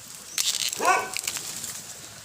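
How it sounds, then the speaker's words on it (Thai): A dog barks once at a distance outdoors near a stream while bamboo shoots are gathered, a single short bark rising above faint background rustle and water noise. "หมาเห่า"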